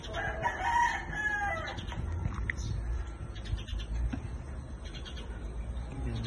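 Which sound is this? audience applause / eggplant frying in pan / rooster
rooster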